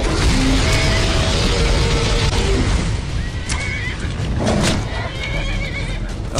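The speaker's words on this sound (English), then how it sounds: "I'm attacking my horse and the horse is running at me." A horse neighs and whinnies loudly several times in The Elder Scrolls V: Skyrim, amid combat thuds and clatter, with hoof clip-clops mixed in.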